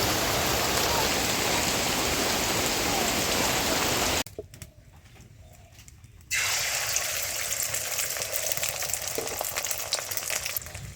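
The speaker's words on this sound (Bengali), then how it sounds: "দেখতে পাচ্ছ বন্ধুরা বাইরে কতটা বৃষ্টি নেমেছে একদম জলে" Heavy rain pouring down outside a home, a dense loud hiss of drops that dips to a muffled hush for about two seconds before the full downpour returns.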